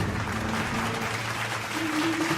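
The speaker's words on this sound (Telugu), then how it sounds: "ఆవిడ వచ్చాక అందరూ చప్పట్లతో స్వాగతం పలకండి." Applause from a gathered crowd welcoming an arriving female guest, steady dense clapping lasting throughout at moderate loudness, with no talk over it.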